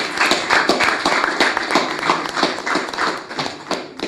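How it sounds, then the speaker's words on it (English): A group claps in a quick, steady rhythm, with loud, close, sharp hand strikes that repeat evenly throughout. "Double clapping."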